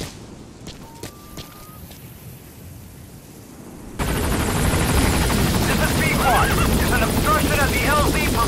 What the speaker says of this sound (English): Support helicopter Roger.